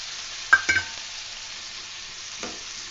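Boiled, sun-dried mutton pieces fry in a pan, with a quiet steady sizzle broken by a couple of sharp scraping stirs near the start and another soft stir later.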